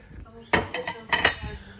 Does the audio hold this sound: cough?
no